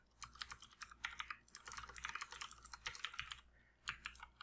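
Rapid typing on a computer keyboard, close and quiet, with dense bursts of clicky keystrokes broken by brief pauses and a few isolated key presses toward the end.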